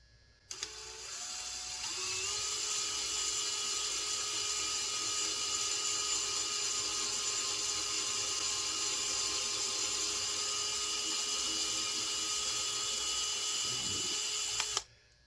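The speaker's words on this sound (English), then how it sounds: "I'm going to drill a pilot hole about halfway" A high-pitched electric drill whines steadily for over ten seconds at close range, drilling a pilot hole in a wooden gunstock, starting and stopping abruptly, with no talking.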